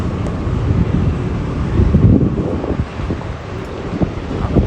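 Wind buffets a microphone at a cruise ship port at night, giving a steady, loud low rumble with gusty swells and no clear voices.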